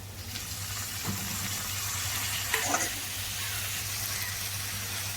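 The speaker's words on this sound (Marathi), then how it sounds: "आता आपले बटाटे शिजले आहेत। आता टमाटर घालूया।" Steady, close sizzling of potatoes frying in a pan for a Maharashtrian snack as tomatoes are added, with a brief stir and clatter partway through.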